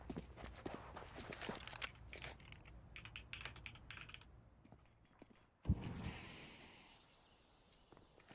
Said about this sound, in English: as all the footsteps are heard